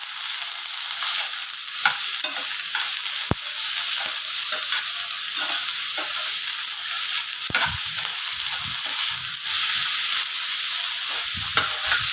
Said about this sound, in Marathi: त्या पॅनमध्ये टाकूया बारीक कांदा कापून घेतलाय